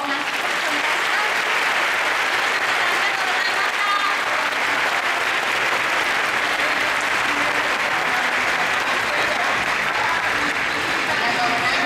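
A crowd applauds warmly and steadily at a football club's press conference presenting its new season kit, with thick, even clapping that holds at a constant level throughout.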